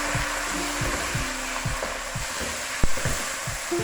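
Three chopped tomatoes dropped onto well-browned onions in a pan, making a steady broad frying hiss with regular soft stirring thumps and one sharp clack near the end, close and moderately loud, with no talk.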